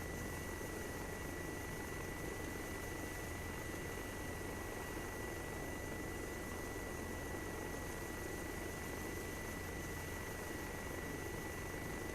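A medevac helicopter spooling up in a military video game, its engine and rotor making a steady, even whine and rush with no let-up and no voices.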